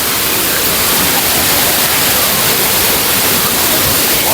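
Hidden Falls waterfall pouring loudly and steadily, a dense unbroken roar close by with no voices heard.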